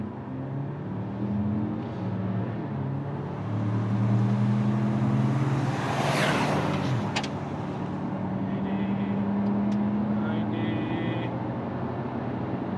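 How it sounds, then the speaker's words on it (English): A 2024 Ford Ranger Lariat pickup accelerating hard from a standstill to 100 km/h, engine droning and rising in pitch through gear changes, heard steadily from inside the cab with road rush building. "we're going to do our 0 to 100 kilometer per hour test"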